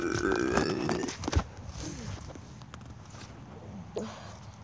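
A person burps while running, a short belch near the start over busy rustling, followed by faint repeated footfalls and breathy noises, fairly close but quiet.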